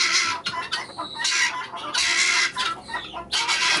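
Chickens on a farm cluck in short, irregular bursts close by, with louder squawking notes rising between brief pauses.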